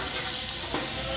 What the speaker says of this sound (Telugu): ముందుగా వేయించుకున్న గోబీని వేస్తున్నాను ఇలా కలుపుకోండి మొత్తం మసాలాలు పట్టేలాగా